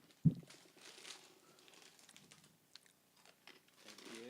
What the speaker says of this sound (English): Really good bite. Very crunchy.